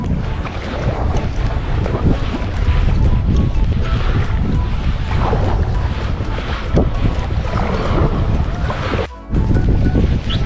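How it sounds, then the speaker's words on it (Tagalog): Heavy surf surges and crashes in repeated rolling swells, mixed with strong wind buffeting the microphone, loud and continuous. "Lakas yung alon."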